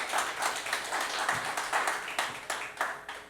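Worshippers at an evangelical outdoor service in El Jicote, Nayarit, clap steadily to praise the Lord, the claps coming in a fairly even, repeated rhythm at a moderate, close level with no voices over them.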